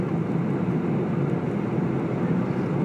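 A Boeing 747 jumbo jet lands at Vnukovo in heavy rain, heard as a loud, steady, unbroken roar of engine and airflow noise that holds level throughout, with no talking.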